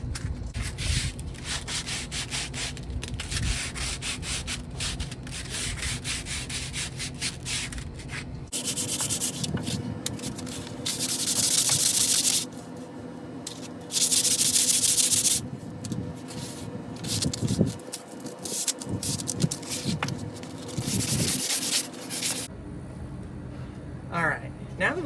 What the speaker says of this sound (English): now that we have our hiking pole nice and sanded down to a point where it's nice and smooth